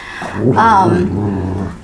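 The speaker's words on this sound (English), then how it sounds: "my dog is growling at something outside" A dog indoors growls at something outside: a close, low rumbling growl that swells into a brief whining rise and then settles back into a steady rumble.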